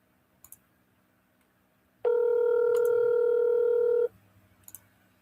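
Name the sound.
telephone call being dialed and ringing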